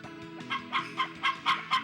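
Hens cluck on a farm in the Harvest Moon video game, a run of short, bright clucks repeating about every quarter second over a faint steady game hum, with no talk.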